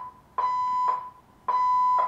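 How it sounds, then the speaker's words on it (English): An apartment building fire alarm sounds in loud, steady electronic tones, two long pulses separated by short gaps, with no talk over it. "The fire alarm in my building is going off"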